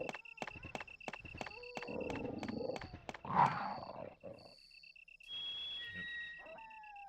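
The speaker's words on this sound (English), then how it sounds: "I hear dogs." Dogs growling and snarling in the mid-90s PC game Resident Evil, a rough roar in the middle of the clip set among repeated clicking footsteps and game sound effects, with a brief voice nearby.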